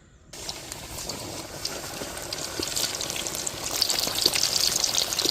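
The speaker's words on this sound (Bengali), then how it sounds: "তেলটা গরম হয়েছে এখন লেগ পিসগুলো দিয়ে দিই" Marinated chicken leg pieces go into hot oil for KFC-style fried chicken, and a sudden sizzle rises into a steady, loud, crackling fry that grows slightly more intense, with no talking.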